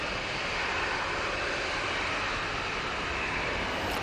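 A KLM airliner touching down at Manchester Airport, a broad steady jet roar held at even loudness throughout, distant but filling, with no voices.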